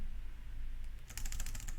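Keyboard typing on a computer keyboard while working on PowerPoint slide design, a quick burst of close, crisp key clicks in the second half after a quiet start.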